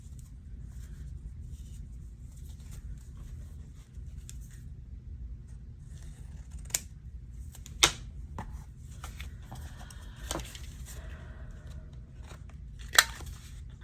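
Scissors snipping tissue paper for a paper craft, with a few sharp, isolated cuts spaced several seconds apart over a low, steady background hum, close by and without talk.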